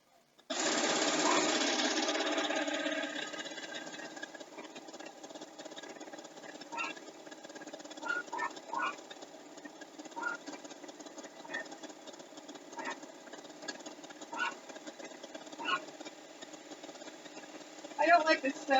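A sewing machine stitches through a quilt, starting with a loud steady run of rapid mechanical whirring for about two seconds, then fading to a quieter hum with scattered clicks and small bumps, and a brief louder burst at the end.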